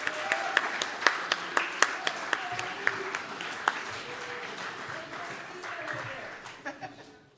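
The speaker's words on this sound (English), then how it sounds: "Let's give him another round of applause, please." Audience at a live event bursts into applause, with a few sharp, loud claps up front, then dense clapping that fades out over several seconds, with some chuckles in the crowd.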